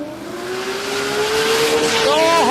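Drag cars launch at Warwick Dragway, a 2JZ-powered Corolla van beside a Datsun 1200 ute, with loud rising engine roar building quickly and tire squeal under an excited announcer's voice.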